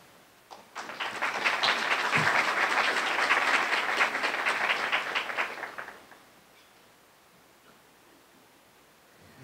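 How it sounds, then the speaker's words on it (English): Audience applause at a Shira party, a dense burst of clapping that swells quickly, holds steady for about five seconds, then fades out to quiet room tone. "a round of applause"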